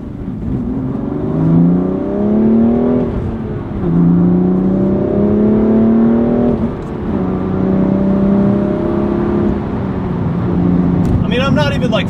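A BMW sports car engine pulls through several gears under partial throttle, its tone climbing steadily then dropping at each shift, heard from inside the cabin with a steady road roar beneath.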